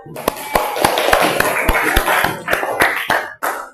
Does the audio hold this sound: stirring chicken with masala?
no